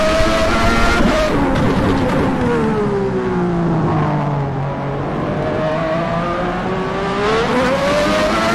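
A McLaren MP4/8 Formula 1 car racing in rFactor 2, its engine screaming loud and steady, the pitch rising and falling through gear changes as it nears 300 km/h, with no voices.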